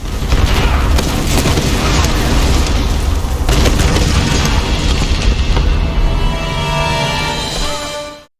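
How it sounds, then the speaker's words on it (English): Loud, dense booming explosions with crashing debris in the Tomb Raider video game, a continuous chaotic barrage that fades out at the end. "And explosions sound like explosions."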